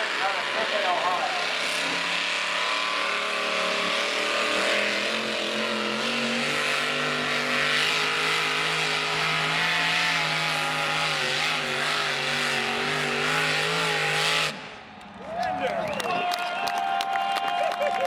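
A pulling tractor at a Legend Pulling Series event in Bowling Green, Ohio roars steadily down the track, a loud sustained engine drone with layered harmonics for about fourteen seconds before cutting out abruptly, followed by a brief lower, quieter stretch.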